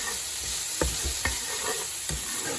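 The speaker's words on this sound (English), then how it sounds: "So I'm going to add my scallions to the oil." Scallions and minced garlic sizzle in hot oil in a pan, a constant close crackling hiss broken by a few soft stirring scrapes, no voices.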